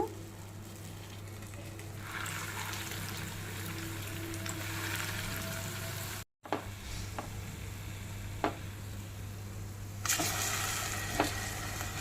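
Bread pieces frying in a pan for bread halwa, a steady close sizzle with occasional sharp scrapes and knocks, a brief drop-out, then a louder burst of frying toward the end.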